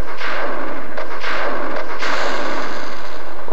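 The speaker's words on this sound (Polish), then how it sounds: "Nie wierzyłem, że to tylko jeden strzał." Gunfire in the video game Resident Evil 2, a loud, clipped burst of shooting that blasts over a sustained, noisy roar and rings on for several seconds.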